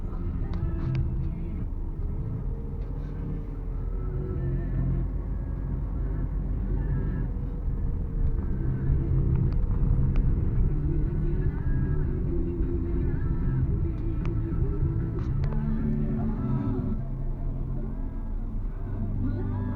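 Steady low rumble of many cars idling and moving around the RNR Seremban southbound highway rest stop in Malaysia, a busy car park with a food truck, continuous and fairly close with faint voices now and then.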